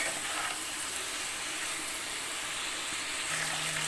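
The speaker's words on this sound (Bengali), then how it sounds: "এখন মাংসটাকে ইচ্ছা মতো কষিয়ে নিব এই সমস্ত ভাজা মশলার সঙ্গে" Chicken meat frying in a pan with fried spices, bay leaves and turmeric, a soft steady sizzle heard at low level without pause or speech.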